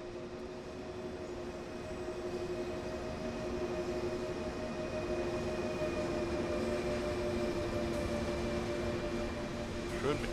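A long freight train of tank wagons rolls past in the Train Sim World game on the Aschaffenburg to Gemünden line, a steady, loud rumble with sustained tonal hums from the engine and wheels, unbroken for the whole stretch.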